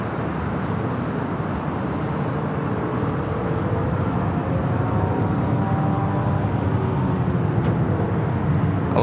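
A Delta airliner takes off from runway 25 right at LAX, a steady broadband jet roar rising and holding for nine seconds from a distance, with no voices heard.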